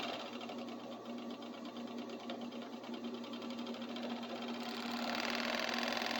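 A sewing machine stitches a seam with a steady, close mechanical hum and a rapid needle patter that grows slightly louder toward the end.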